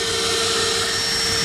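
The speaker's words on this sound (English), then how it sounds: "Hey Vic, the way you run that vacuum cleaner, you're gonna make somebody a good wife one" A vacuum cleaner runs in a workshop during a Corliss steam engine teardown, giving a loud, constant whine and rushing airflow that stays unbroken and close throughout.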